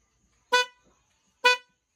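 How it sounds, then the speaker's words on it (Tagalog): Two loud, brassy aftermarket car horn blasts, each about a quarter second long, spaced roughly a second apart and heard up close with nothing else around. "May loud horn itong isa, loud horn."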